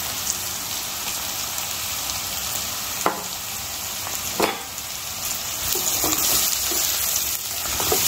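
Ginger-garlic paste and spices sizzle steadily while being sautéed in a pan, a continuous close crackle with a few sharp clicks of a spoon against the pan and no talking.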